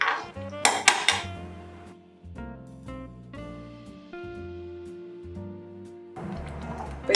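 A metal lid set onto a pot of kesari: a cluster of bright clanging metallic hits at the start, then ringing tones that fade, and another clatter at the end, close and fairly loud with no speech.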